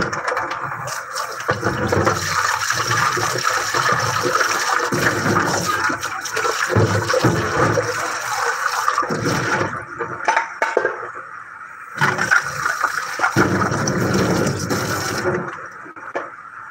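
Water is poured into a pan while cooking fried dried fish with banana and vegetables, a running, splashing pour with clinks that carries on steadily, pausing briefly and resuming, close and fairly loud.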